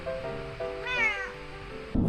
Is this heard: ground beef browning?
no